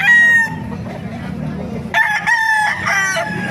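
An eight-month-old Hatch Grey gamefowl rooster crows loudly and close, one crow breaking off early and a second, fuller crow following after a brief low murmur.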